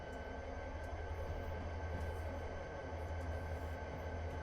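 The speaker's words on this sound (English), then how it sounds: "And I'm going to stop the train here" A CSX SD40-3 diesel locomotive rolls along in Train Simulator 2020, giving a steady low rumble with a constant mechanical drone, moderately loud and without speech.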